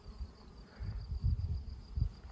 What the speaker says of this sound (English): Wow, and there's a lot of bees.